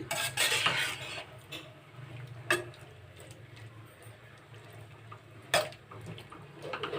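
Liver fry being stirred and mixed in a pan, with a few scattered utensil clinks and scrapes over a low steady background hum, each stroke fairly close and moderately loud, no talking.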